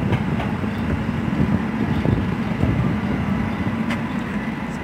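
A tram passes along a street in Bratislava, a steady low rumble of wheels and rail noise that stays loud and continuous throughout, with faint clatter on top and no voices.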